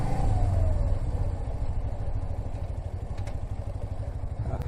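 Suzuki motorcycle engine droning and revving steadily while riding, a dense low rumble with mechanical clatter, close and loud, its pitch briefly dropping early on as it shifts down a gear.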